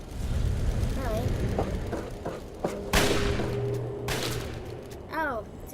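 Gunfire at a shooting range in the video game Fallout 3, with sharp shots cracking among distorted game effects and warbling tones, one especially loud burst near the middle, fairly distant and steady.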